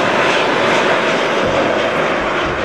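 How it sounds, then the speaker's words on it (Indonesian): A toy airplane plays a loud, steady electronic engine roar that runs unbroken for a few seconds and then cuts off abruptly at the end. "Dan lihat ini ada pesawat terbang."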